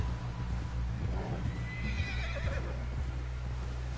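A horse in Red Dead Redemption 2 whinnies while its hooves clip-clop steadily, set against a low constant rumble of game ambience, with no talking.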